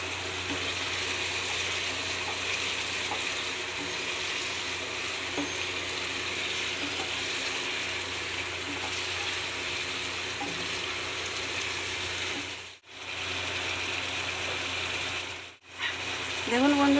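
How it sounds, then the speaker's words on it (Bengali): Meat frying and being stirred in oil in a pan for kosha, a steady close hiss of sizzling that carries on unbroken, with two brief dips where the noise drops out. "আমি এবার কষিয়ে নেব মাংসটা"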